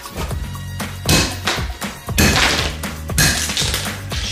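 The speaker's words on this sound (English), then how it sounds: "Shatters. That used to be a tomato." A tomato frozen solid in liquid nitrogen shatters, a series of sharp cracking smashes and thuds like breaking glass or rocks, close and loud, several impacts in quick irregular succession with no talk.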